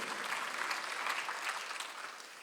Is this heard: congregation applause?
yes